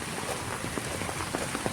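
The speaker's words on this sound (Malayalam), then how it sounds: "നമ്മൾ ബസ് സ്റ്റോപ്പിലോട്ട് നടക്കാൻ സമയം മഴ പെയ്തു ഗായ്സ്" Steady rain falling, a constant hiss with scattered louder drops pattering on a nearby surface; no voices.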